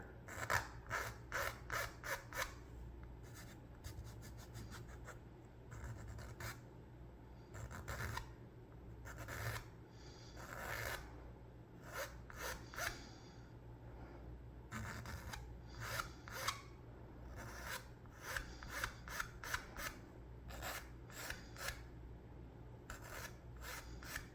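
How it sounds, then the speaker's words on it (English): A hand file rasps across a small wooden part for a model Norwegian sailing pram, in bursts of quick, close back-and-forth strokes separated by short pauses, quiet and dry with no talking. "I'm going to try a file, I think, just to get us started"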